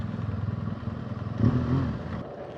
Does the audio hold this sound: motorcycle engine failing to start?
yes